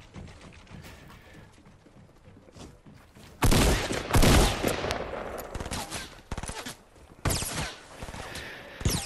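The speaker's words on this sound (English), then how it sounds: "He's shooting us, dude." Fortnite gunfire in bursts of rapid shots: scattered faint pops first, then loud close volleys, a pause, and more heavy bursts toward the end, with no talk over it.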